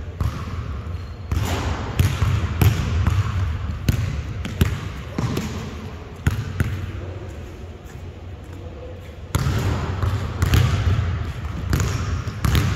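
A basketball dribbled during brother-and-sister drills, a continuous run of rapid, close thumping bounces with brief pauses, over room noise and occasional voices.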